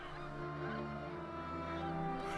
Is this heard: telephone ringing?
no